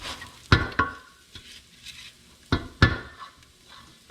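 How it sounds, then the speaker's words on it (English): Risotto rice for a seafood risotto crisps in a pan while being stirred, with soft sizzling under repeated sharp scrapes and clanks of a utensil against the pan, close up and without talking. "the rice has been crisping up just a little bit, not a whole lot."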